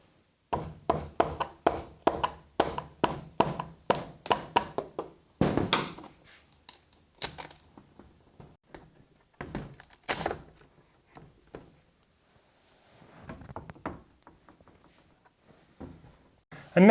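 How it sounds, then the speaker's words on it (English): A chisel driven by a mallet prises apart a fibreglass split mould, giving a quick series of sharp, close knocks followed by a few scattered taps and a scraping crack, with quiet gaps between them. "we're just going to carefully prise it open using a chisel and a mallet"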